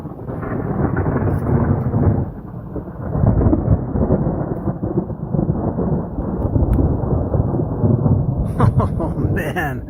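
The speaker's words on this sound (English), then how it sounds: "some of these lightning and thunders are heavy" Loud, heavy thunder rumbles on and off through a thunderstorm with rain. Rolling low booms swell and fade across the stretch, and a faint rustle comes near the end.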